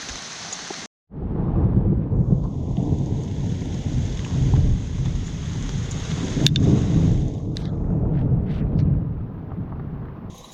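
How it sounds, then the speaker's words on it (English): Heavy thunderstorm rain pours down in the woods while thunder rumbles, with riders and their mules huddled under a tree. After a brief silence at the start, the loud roar runs continuously with no one speaking. "Now we're just gonna stay away from the lightning and thunder."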